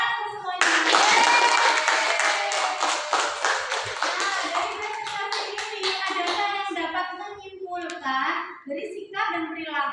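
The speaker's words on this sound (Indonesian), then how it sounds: "Tepuk tangan untuk semuanya." Classroom applause for all student groups during a lesson, a burst of many hands clapping loudly at first, then thinning into scattered claps with children's voices chattering underneath.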